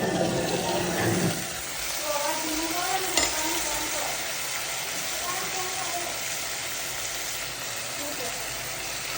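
Potatoes go into hot oil already seasoned with red chili, turmeric and salt, setting off a loud, dense, steady sizzle that fills the whole stretch, while a voice speaks over the frying.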